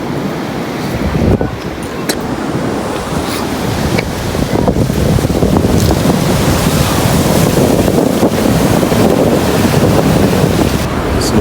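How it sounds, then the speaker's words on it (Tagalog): Sea waves rolling onto the shore at sunset, a continuous loud surf roar with heavy wind buffeting the microphone throughout and no clear talk. "Punta ka lang sa tabi ng dagat"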